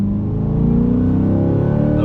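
A Chevrolet C8 Corvette in eco throttle mode accelerating, its engine note climbing steadily in pitch, loud and close from inside the car with no talk.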